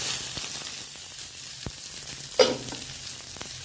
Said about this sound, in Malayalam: രണ്ട് ജീരകം ഇട്ടിട്ട് പിന്നെ നമ്മളിത് ഇഞ്ചി പച്ചമുളക് കറിവേപ്പില സവാള എല്ലാം ഇട്ടു